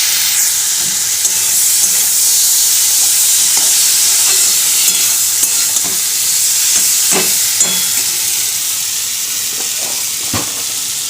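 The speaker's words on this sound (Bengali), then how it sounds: "তো দেখো মাছের ঝোলটা এখন আমি বানাচ্ছি" Fish curry with potatoes and dried red chillies bubbles and sizzles loudly in a pan in a home kitchen, a dense continuous hiss broken by occasional clinks and scrapes of stirring.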